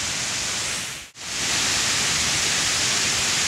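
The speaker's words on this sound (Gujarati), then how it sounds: "તો મિત્રો આ છે મુખ્ય ધોધ ઉપર" The main waterfall near Vansda in monsoon-swollen South Gujarat roars as a dense, constant rush of falling water, broken by one brief dip before it resumes.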